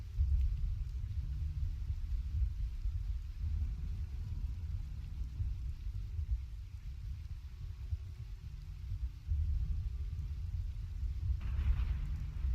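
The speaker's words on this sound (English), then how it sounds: "So here's a storm, Black Desert at night." A nighttime storm in the video game Black Desert rolls on as a continuous deep, low rumble, heavy and steady throughout, with a brief swell toward the end.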